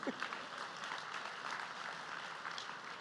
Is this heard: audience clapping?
yes